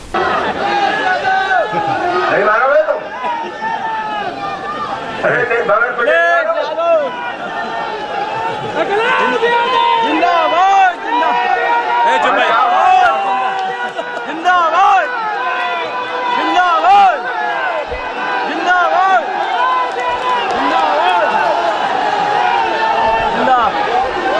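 Young party workers hoot at a political rally while a minister on stage tries to calm them: a loud, dense crowd of overlapping voices and shouts that runs without pause for the whole stretch.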